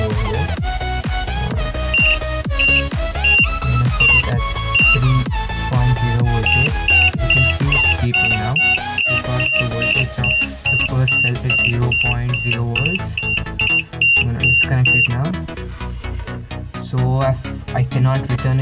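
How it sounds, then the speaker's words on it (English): A LiPo battery checker's alarm sounding in repeated high electronic beeps, short bursts in a rapid rhythm, loud against music and a talking voice. "Even the alarm is working, but I've set it off. I'm gonna set it on now by pressing this button over here."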